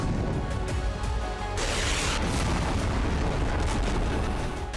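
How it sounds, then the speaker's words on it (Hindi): Indian Air Force fighter jets fire missiles during a strike in Pakistan: a loud, dense, continuous roar of booming blasts with a sharper rushing burst partway through and no voices. "मिसाइलें दागी जाने लगी।"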